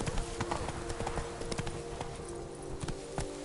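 Hooves of Roach, a horse in the Witcher 3 Gwent game world, clip-clop in a steady, moderately close rhythm over a continuous ambient bed, with no voices.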